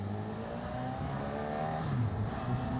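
A Honda CB1000GT motorcycle with a Fireblade-derived engine growls steadily and deeply, its engine note rising slightly as it revs, heard close and alone without talk.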